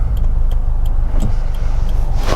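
Steady low road rumble of cars going by close, heard while waiting at a hill start in a 2020 Subaru WRX STI, with a vehicle swelling louder near the end and faint ticking in the background.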